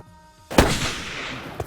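Single sharp rifle shot fired at a whitetail deer during a hunt outdoors, a loud crack following a quiet pause, then a decaying rumble and a smaller knock near the end.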